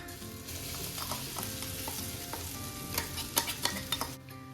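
Crushed peas and carrots fry in oil with a steady sizzle while a spatula scrapes and stirs, with a few sharper clinks near the end.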